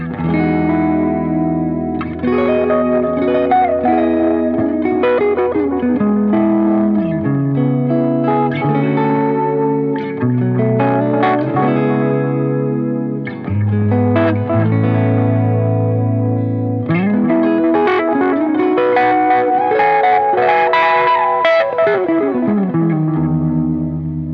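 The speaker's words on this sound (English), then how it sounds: "let's just hear how the delay sounds in itself" An electric guitar plays through a delay pedal, notes repeating and trailing off into echoes, with some distortion and a spacious, wet tone.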